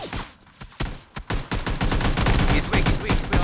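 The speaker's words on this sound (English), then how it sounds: "I'm getting shot from multiple directions" Gunfire in PUBG during a fight around a two-story compound, dense overlapping shots in rapid bursts, some close and sharp, others further off, building into sustained fire with faint voices underneath.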